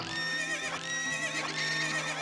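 A loud, drawn-out horse whinny from The Legend of Zelda: Ocarina of Time, with a shrill, wavering tone, sustained over a couple of seconds with no talking.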